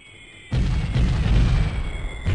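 Artillery fire-mission explosions in the Comanche 3 Gold helicopter game, Ukraine campaign: a sudden loud, close boom that holds as a dense, rumbling roar for about two seconds, with no talk over it.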